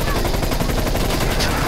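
Dense, continuous automatic gunfire in Call of Duty: Black Ops Cold War, loud and close, a rapid unbroken stream of shots filling the whole moment.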